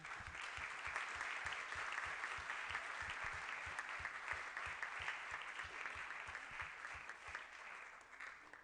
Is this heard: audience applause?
yes